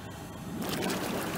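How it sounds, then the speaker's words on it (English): Bubble jets of a Lay-Z-Spa hot tub switch on partway through, turning a quiet water murmur into a steady, loud rush of churning, frothing water that continues to the end. "And now it's time for bubbles."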